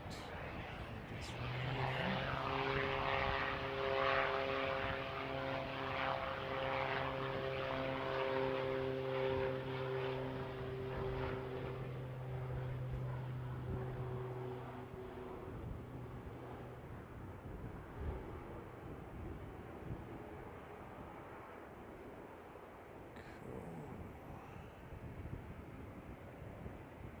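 A Texan propeller aircraft at Canterbury Aero Club drones loudly with a steady engine hum that holds for about fifteen seconds, then recedes and fades into wind-buffeted outdoor background.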